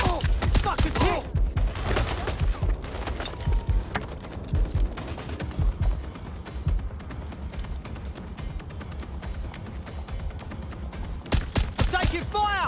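Gunfire cracks in dense, rapid bursts during a firefight in the video game Watch Dogs Legion, heaviest at the start and end with scattered shots between, loud and close, and voices shout over the shooting.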